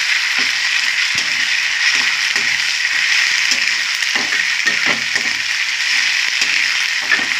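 Ginger garlic paste frying in a pan, a steady bright sizzle with faint spatula clicks and scrapes, continuous and close with no voices.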